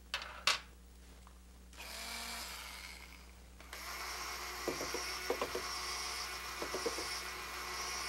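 An electric drill fitted with a bent aluminum rod hook whirs steadily as it mixes paper pulp, starting after a few clicks and handling noises, with intermittent knocks and rattles against the container; no voices.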